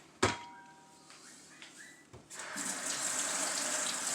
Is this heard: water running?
yes